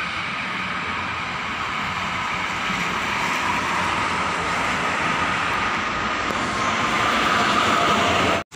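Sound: train passing by

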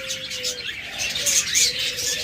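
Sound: pet birds chirping, breeding pair

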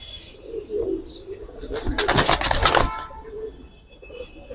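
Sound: jelly pigeon flapping wings and cooing

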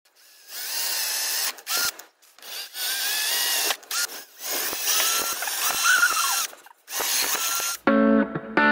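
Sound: drill driving screws to mount caster wheels

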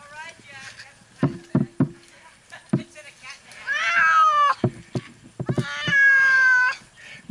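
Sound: cat meowing while being rescued from a tree

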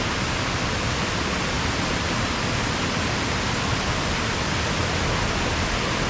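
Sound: waterfall near campsite

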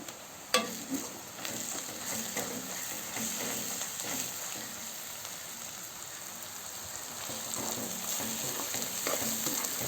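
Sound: onions frying in a pan for egg garlic chilli dish

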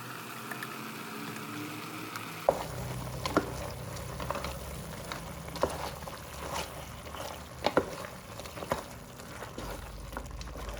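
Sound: roasted ground masala added to mutton frying in oil

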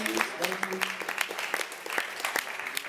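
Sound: audience applause

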